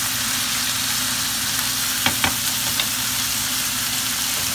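Ackee and saltfish sautéing together in a pan, a steady dense sizzle filling the clip with a couple of faint utensil scrapes near the middle, close and continuous with no talk.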